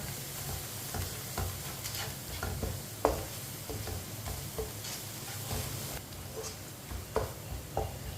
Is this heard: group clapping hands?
no